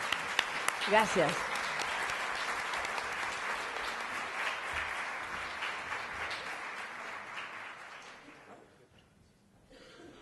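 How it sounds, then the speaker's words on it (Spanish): An audience at a Barcelona tarot congress applauds warmly, a dense round of clapping lasting about eight seconds before fading out, with a voice speaking briefly near the start. "un agradecimiento y un aplauso a Mariló Casal"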